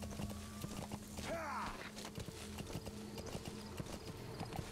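Hooves of a horse clip-clop steadily in Metal Gear Solid V: The Phantom Pain, a brief whinny rising partway through, over a low game ambience.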